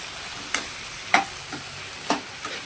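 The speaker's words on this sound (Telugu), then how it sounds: "వేసి ఒకసారి కలిపేద్దాం" Spoon stirring turmeric into ridge gourd chutney in a pan, a few distinct scraping clacks at irregular intervals over a soft continuous sizzle.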